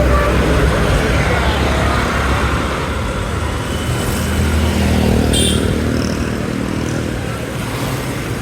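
Motorcycles and cars idle in a long queue for fuel, a steady dense engine rumble with traffic noise, close and loud throughout, with no clear voices.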